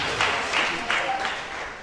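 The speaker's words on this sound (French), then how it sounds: "On applaudit, s'il vous plaît." An audience claps at a singing event, a dense burst of applause that rises in a few swells and fades slightly toward the end.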